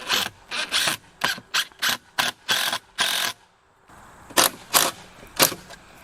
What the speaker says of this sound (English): I'm gonna bolt it on there and see what we can do